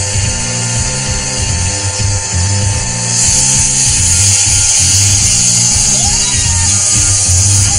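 A floor sander grinds across original hardwood floors in a house being renovated, a loud, steady machine whine with a low rumbling drone underneath that continues without a break.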